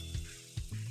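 Ready-made ginger garlic paste sizzles in hot oil for a beans curry, a soft, steady frying hiss with a couple of brief stirring bumps.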